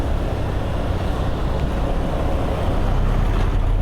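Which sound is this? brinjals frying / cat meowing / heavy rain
heavy rain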